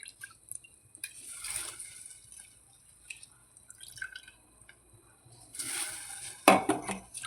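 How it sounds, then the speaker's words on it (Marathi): Rice tipped into a pot of boiling water seasoned with salt, black pepper and cloves, heard as bubbling and watery drips with light clinks of a pot, a brief louder splash near the end, no talking. "आता तांदूळ पण टाकून घेऊ."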